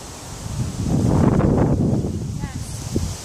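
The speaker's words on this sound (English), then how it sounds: "the wind is really picking up here" Wind gusts outdoors during a rainy bootcamp workout, a rushing swell that builds and fades with faint rustling, partly masked by voices.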